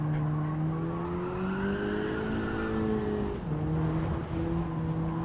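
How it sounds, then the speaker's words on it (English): A racing car engine in the Gran Turismo video game revs high and steady, its pitch climbing and then dropping at a gear shift, loud and alone with no talk. "I have to hear the engine. The engine is the music."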